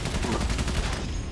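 Rapid machine-gun fire in the World War I video game Valiant Hearts, at the Verdun battle: a dense, continuous stream of close, loud shots with no pauses.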